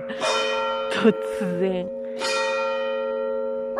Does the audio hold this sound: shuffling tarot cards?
no